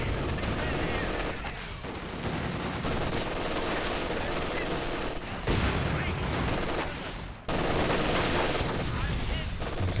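Gunfire with incendiary rounds in a real-time strategy video game: dense, continuous bursts of automatic fire and shots fill the mix, with a voice talking over it in places.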